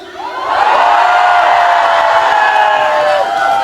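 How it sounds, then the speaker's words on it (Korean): A large crowd at the Yecheon Insect Festival in South Korea roars at a trot concert, cheering and shouting together loudly and continuously, with whoops and high voices rising over the din. "우리 지금 현재 예천에 살고 계신 분들 함성!"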